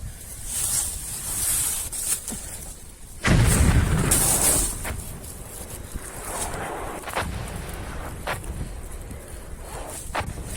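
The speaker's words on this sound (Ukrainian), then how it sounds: "Артилерія 500 метрів зліва." Artillery fire in a war film scene, with a heavy nearby boom rolling out about a third of the way in, amid wind, scattered footsteps and duller distant thuds.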